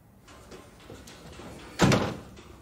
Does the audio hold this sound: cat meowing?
no